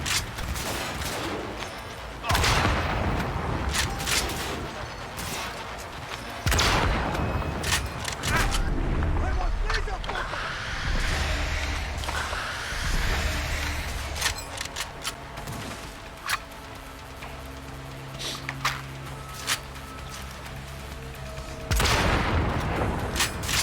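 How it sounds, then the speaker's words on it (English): Rifle fire from the video game Cyberpunk 2077, in scattered loud bursts and single shots over a continuous noisy game soundscape, with someone talking over parts of it. "I can shoot him through the roof with this rifle."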